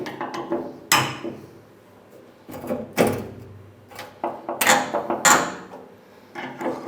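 Dry hinge on a car door creaking in short bursts as the panel is moved up and down during gap adjustment in a workshop, with clunks between, close and fairly loud.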